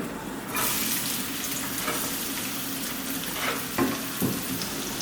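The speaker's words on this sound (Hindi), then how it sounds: "जैसे हमारा ये ऑयल गर्म होगा ना, इसके अंदर हम ये आधी कटी प्याज डाल देंगे।" A half-cut onion drops into hot mustard oil and fries with a sudden, steady loud sizzle that continues, with a few stirring knocks, nearby and without speech.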